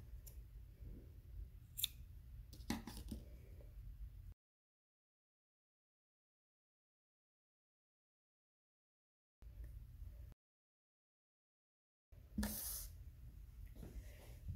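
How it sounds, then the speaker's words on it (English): Scissors snip the loose edges of a canvas bookmark, with a few sharp, close cuts near the start and again toward the end, separated by stretches of silence. "I'm going to trim these extra little bits off"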